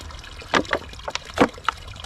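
Cold spring water splashes and trickles into an empty 2-liter soda bottle in uneven gurgling bursts, close and fairly loud on a backpacking trail.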